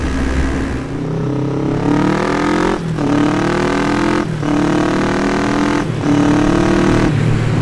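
A Kawasaki ER5 motorcycle engine revs up loudly and then dips at each gear change, rising again three or four times in a rhythmic pattern, close by.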